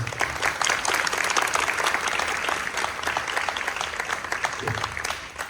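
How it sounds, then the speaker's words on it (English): An audience of families applauds at a Year 6 school concert, with steady, dense clapping sustained evenly throughout and no voices on top. "Why don't you give yourselves a loud round of applause?"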